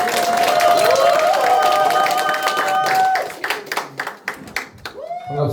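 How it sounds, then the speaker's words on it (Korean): An audience applauds at a Korean political committee launch ceremony. A sustained tonal passage with a voice gives way to scattered, uneven bursts of clapping from the crowd that fade out toward the end. "여러분이 큰 박수로 모시겠습니다."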